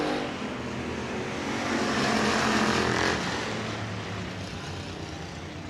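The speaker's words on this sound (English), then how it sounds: "It's car number 10 of Mike Brunker, who's going to send us early to the caution flag here tonight" Modified race cars circle a speedway oval during a night heat race, a dense, roaring engine drone that swells as the cars pass nearby and then eases slightly, heard without talk.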